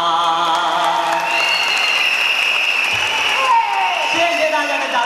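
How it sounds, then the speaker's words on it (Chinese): Audience applause at a radio station anniversary concert: a sustained wave of clapping from a crowd, loud and close, over a lingering tone. "谢谢大家的掌声"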